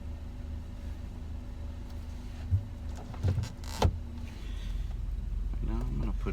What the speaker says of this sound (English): Let's pop the sunroof a little